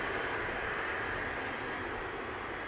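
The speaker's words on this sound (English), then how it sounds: "there's also another Airbus from British Airways coming this way in the background" A British Airways Airbus airliner passes at a distance near Schiphol Airport, Amsterdam, a steady broadband engine roar with a soft hiss throughout, faint and continuous, no voices over it.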